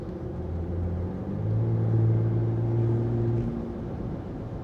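Ram RHO pickup truck fitted with an AWE exhaust idling nearby, a steady deep rumble that swells slightly midway and settles again, heard alone without talk.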